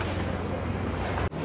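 Broadband wash of waves and wind around a boat at a pier in Malé, Maldives, steady and continuous with a brief dropout near the end.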